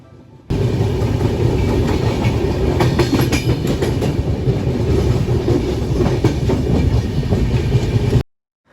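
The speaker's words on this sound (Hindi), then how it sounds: "हमारी ट्रेन सेलम स्टेशन को पार कर रही थी" Train running along the tracks past Salem station in India, a steady loud rumble with rhythmic clickety-clack of wheels on rail joints, continuous and close throughout without speech.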